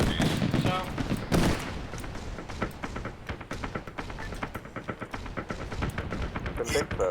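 Sustained rifle and machine-gun fire in the military shooter Arma 3 during a large squad operation, steady cracking shots and bursts close and distant, with people talking over the shooting.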